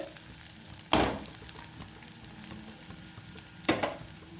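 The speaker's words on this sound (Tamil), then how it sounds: "வெங்காயம், உள்ளி எல்லாம் வடிவாக பொரியட்டும்" Onions and garlic fry quietly in a pan, a soft, steady sizzle marked by two louder scrapes as a spoon stirs them, near and without talk.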